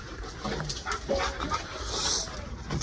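Dogs in the outdoor yard of an animal shelter, whimpering and yipping with brief panting, close and moderately loud, with no talk.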